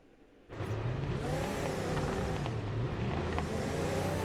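A Corvette in a racing video game launches into a burnout, its engine roaring up abruptly from near silence and holding a loud, droning rev with tire squeal, wavering in pitch for several seconds.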